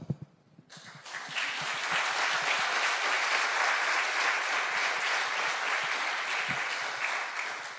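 A conference audience at a closing session breaks into applause after a brief quiet start, then keeps up a dense, steady clapping for several seconds that fades slightly toward the end.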